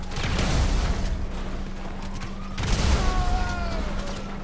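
Grenade blasts in Grand Theft Auto V: two loud, dense booming explosions, one at the start and another midway, with rumbling noise and a steady low hum, no talk.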